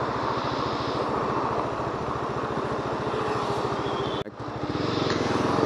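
A motorbike engine drones steadily on a ride to the office, a low pulsing thrum with constant road and wind noise that cuts out briefly near the end and then comes back.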